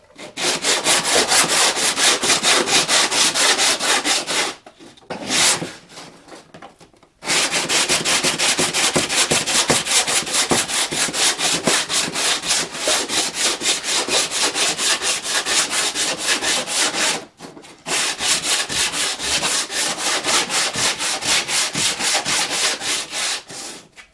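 Sanding block rubbed back and forth over a crashed Honda's body panel, a loud, steady rasping scrape close up, running continuously with two brief pauses.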